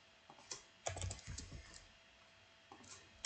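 Typing on a computer keyboard, a quiet, irregular run of soft key clicks and taps with short pauses, heard alone.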